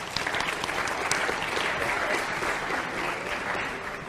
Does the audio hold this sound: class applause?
yes